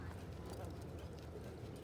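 A horse walking during a riding lesson, hoof clip-clops steady and close under constant broadband noise and a speaking voice.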